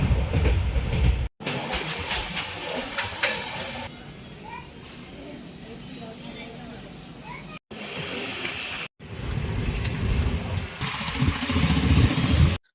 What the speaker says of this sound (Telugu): ఎక్కేసిగా ట్రైన్ అయితే మెల్లగా కదిలింది.